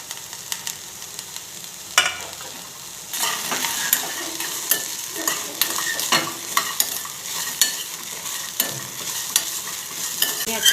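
Garlic fries in a pan for chickpea sambar under a constant sizzle, with a spoon scraping and stirring in frequent quick strokes up close.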